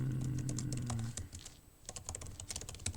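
Rapid keystrokes on a computer keyboard as a password is typed to sign in, close and crisp, with a brief pause in the middle before another quick burst.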